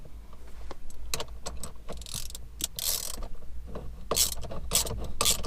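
Steering wheel bolt on a Mini R56 being threaded in by hand, giving light metallic clicks, ratchet-like ticks and small clinks at irregular intervals, close and fairly quiet.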